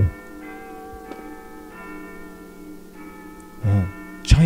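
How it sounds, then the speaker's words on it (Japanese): A school chime rings in a Japanese horror video game set in a school. Sustained, clear bell-like tones follow one another in a slow sequence, and a couple of short, sharper noises break in near the end. "チャイムが鳴ってる。"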